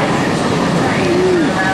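A train rumbles past in a steady, loud roar with a faint squeal of wheels rising briefly above the noise.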